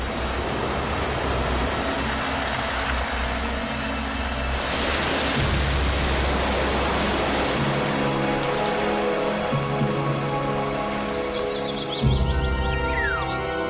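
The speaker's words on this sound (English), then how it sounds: "the rain which rushes down in countless waterfalls." Heavy rain rushes down in broad, roaring sheets of constant hiss, like many waterfalls, over a low rumble, with a faint chirpy squeak near the end.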